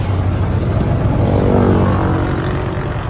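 A loud, steady Isuzu Deca 320 truck engine roar with a deep exhaust rumble through a straight-through exhaust with twin 3-4 inch tips replacing the muffler, sustained throughout with no talking.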